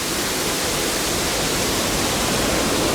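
Waterfall in the bear enclosure at Memphis Zoo, a steady, loud, broadband rush of falling water that holds constant throughout with no voices.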